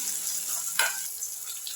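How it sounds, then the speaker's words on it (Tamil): Onions and tomatoes with a few curry leaves sautéing in a pan for cauliflower fry: a soft, steady sizzle with one brief stir-like scrape midway, quiet and with no voices. "வெங்காயம் தக்காளி நல்லா வதங்கட்டும்"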